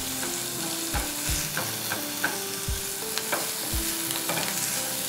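Masala spices stir-fried in a pan for a tandoori aloo wrap: a steady sizzle with a spatula scraping and knocking against the pan at irregular intervals, close up and without any talk.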